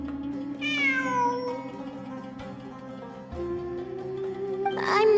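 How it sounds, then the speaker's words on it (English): A cat meowing in a video game, with two distinct rising, wavering meows, one near the start and one at the end, over a steady background music drone and no talking. "It really is a cat."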